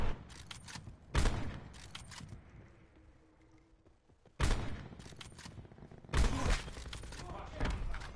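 Sniper rifle shots in Call of Duty Black Ops 4, three sharp loud cracks spaced a few seconds apart, each followed by a lingering tail and game noise, with some talk in between.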